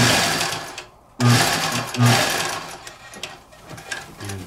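Sewing machine stitching a suit coat front canvas, running in short bursts with brief pauses between them, close and fairly loud.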